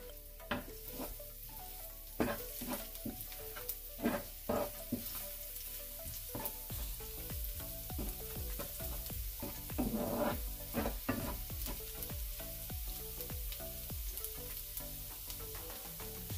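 Garlic fries in a pan for a Filipino stuffed-squid and lumpia dish, giving a steady close sizzle with repeated sharp scrapes and clinks as it is stirred, and no talking.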